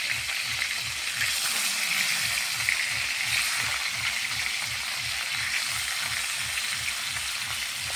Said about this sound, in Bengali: তাজা মাছ একটু ভাজা, তারপরে ভাজা তুলে দেবো